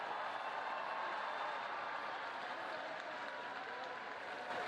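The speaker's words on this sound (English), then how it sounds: "So there, Victor, the crowd is applauding, he's waving." A large crowd applauding as Pope Francis appears at a window, a steady, dense wash of clapping heard from a distance, sustained throughout without voices rising above it.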